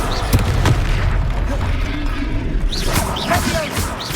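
Confringo spell explosions in the Hogwarts Legacy video game, a dense roaring boom of fiery blasts over a constant combat din, loud and close, with brief spell whooshes.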